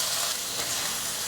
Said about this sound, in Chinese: 锅内放入适量的油，油热了，放入杏鲍菇来煎